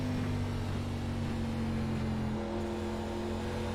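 A stock-car engine in the iRacing ARCA Series at Myrtle Beach Speedway drones steadily at a low, even pitch under light throttle, a sustained near hum with no voices.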